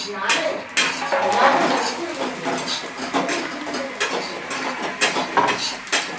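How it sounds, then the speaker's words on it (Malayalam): Chopped coconut pieces go into hot coconut oil in a pan for kappa biryani, giving close, irregular clatters and scrapes of utensils against metal over a soft sizzle, with occasional talk. "നമുക്ക് നേരത്തെ ഉണ്ടാക്കി വെച്ച തേങ്ങക്കൊത്ത് കൊത്തിയിട്ട് നമുക്ക് വറക്കാം"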